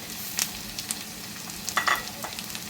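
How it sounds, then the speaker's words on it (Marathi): Tomatoes and softened vegetables frying on a tawa for Mumbai-style pulao, giving a soft steady sizzle with a few light stirring scrapes. "आता आपण टोमॅटो घालून घेऊयात"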